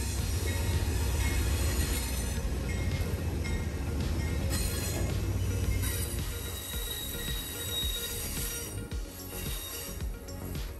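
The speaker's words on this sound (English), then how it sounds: "Train 21 trundles past the main platforms to the south boarding area" Amtrak Train 21, led by P42DC locomotive number 69, trundles past station platforms with a continuous low rumble, rattling cars and intermittent high wheel squeals, the roar gradually easing as it rolls by.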